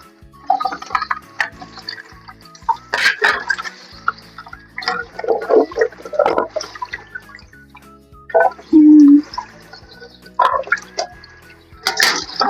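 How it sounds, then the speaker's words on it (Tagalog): Pork being washed by hand under running water in a kitchen, with splashing, dripping and sloshing in uneven bursts, close and fairly quiet, with no talking. "Atin na po muna ang huhugasan ito"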